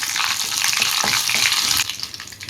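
Fennel seeds and cumin sauté in butter and oil in a pan for a restaurant-style chicken gravy, giving a loud steady sizzle with stirring scrapes that eases off near the end.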